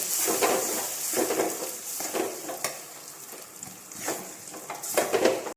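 Ground batter sautés with coconut in a pan on low heat, sizzling steadily while a spoon stirs and scrapes in repeated strokes. The sound is close and rises and falls with each stir.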